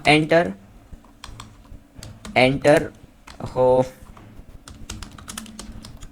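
Keyboard typing while entering C++ code on a computer, a steady run of close, light key clicks beneath a voice that speaks in bursts over it.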